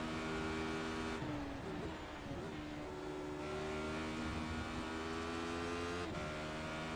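Race car engine in a racing video game drones steadily at high revs with stable harmonic tones, dipping and shifting pitch briefly near the two-second mark and again near the end, continuous and loud throughout with no talk.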